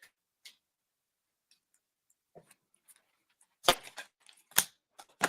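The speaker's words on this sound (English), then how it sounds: "Shuffle the cards right." Playing cards being shuffled for a draw: scattered soft ticks and clicks, then a few louder, crisp riffling bursts near the end, close by with no talking.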